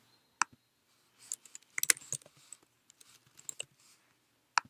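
A class name is typed on a computer keyboard in an online Zearn tutorial: sparse, irregular keystroke clicks in small bursts, close but quiet, with no talking.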